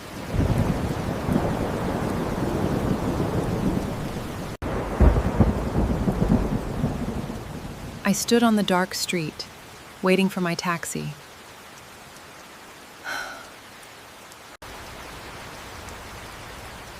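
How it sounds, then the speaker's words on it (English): Steady heavy rain hisses throughout while someone speaks, with a few rumbling bursts of thunder in the middle. "It was raining heavily."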